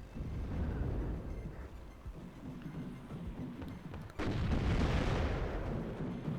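A BMP-2D armored vehicle fires on enemy units in the war game WARNO, with rumbling gunfire and blasts, then a sharp loud burst of heavier fire that sustains to the end.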